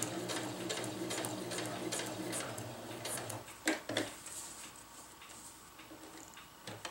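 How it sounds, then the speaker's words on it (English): A sewing machine stitches a winter tarp with rapid mechanical ticking that runs steadily for several seconds, then stops, leaving a few faint clicks and handling sounds. "Now I'm going to sew straight across to this mark."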